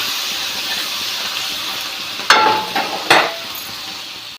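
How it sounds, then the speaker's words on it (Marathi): Spicy chili masala roasts in a hot pan with a loud, broad, steady sizzling hiss, broken by a couple of sharper crackling bursts partway through, close and without any talking. "तर म्हणून मी तिखट बनवते. भाजून घ्यायची त्याला."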